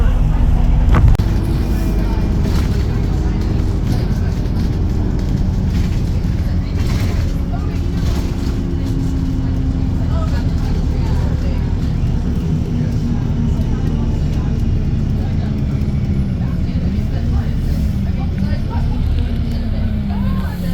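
Riding aboard a London route 533 bus, one of the last 500 series routes, gives a steady, loud engine drone and road rumble throughout, with rising and falling tones as it accelerates and a voice talking over it.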